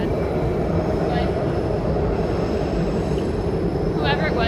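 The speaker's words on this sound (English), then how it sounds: "alright, sorry, there's a train going" A train rumbles past steadily throughout, a dense continuous roar with faint higher squeals near the start and end.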